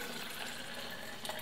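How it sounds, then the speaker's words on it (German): Photographic fixer bath poured into a graduated cylinder, about 475 millilitres, a close, steady hissing trickle of liquid with no speech. "Also, ich fülle jetzt das Stoffbad in die Mensur."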